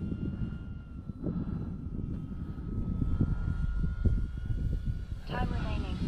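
An E-flite T-28 Trojan RC plane with a 1.2 m wingspan makes a pass on a windy day. A steady propeller whine runs throughout, steady in strength, with buffeting wind noise underneath and a brief rising tone near the end.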